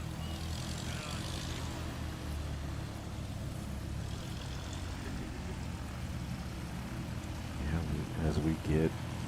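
STOL propeller aircraft taxi back into position at an Appalachian competition in Clarion, Pennsylvania, a steady low engine drone and propeller buzz heard at a distance, with a sharper burst of propeller noise near the end.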